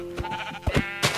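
A sheep in the Minecraft video game bleats in short, nasal cries, a few quick calls heard up close and fairly loud with no talking.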